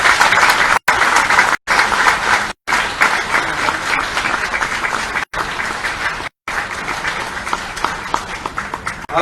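Dense, loud applause from a large audience at a swearing-in ceremony for parliamentary secretaries in Raipur, sustained throughout with a few abrupt brief dropouts.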